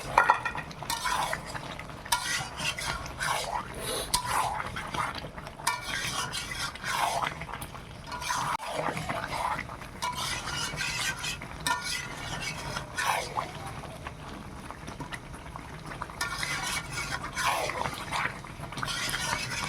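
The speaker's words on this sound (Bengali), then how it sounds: "আলুটা দিয়ে আর একটুক্ষণ ভালো করে কষিয়ে নিই" Potatoes stir-fried in a pan in a Bengali village home kitchen, with steady scraping and stirring, soft sizzle and occasional clinks of the utensil against the pan, close by and moderately quiet.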